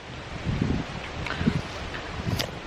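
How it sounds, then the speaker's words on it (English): Strong gusty wind buffets a microphone outdoors at a Norfolk campsite, a steady broadband roar with low thumping gusts recurring every second or so, loud and close, with no voice heard. "It's so windy, you might not be able to hear me."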